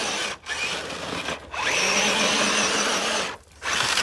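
RC car fitted with a Hobbywing 1080 speed controller and 13T 555 brushed motor, a loud whining electric motor running in bursts with sharp drops between, close by.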